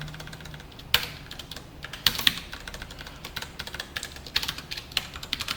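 Code being typed on a computer keyboard during an HTML and CSS lesson, a steady patter of quiet keystrokes with a few sharper clacks, close and alone without talk.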